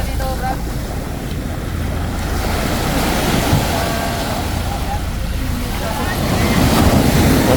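Strong sea waves slap and surge around a small boat at sea, a constant heavy wash layered with buffeting wind noise on the microphone, loud and close throughout.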